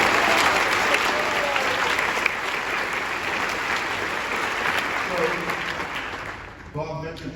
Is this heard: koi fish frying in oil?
no